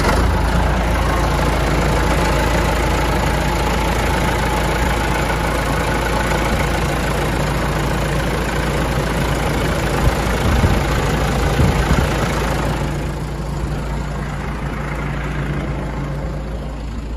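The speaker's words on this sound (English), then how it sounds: "We're gonna show the engine here running." A 1979 John Deere 550C crawler dozer's diesel engine idles steadily and close, a continuous low rumble that eases slightly in level toward the end, with no talking.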